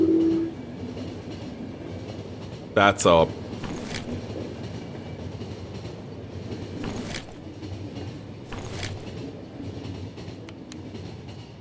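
A train in the video game The Final Station rumbles steadily with a low, rolling drone broken by a few brief clanks and hisses, while a person talks over it.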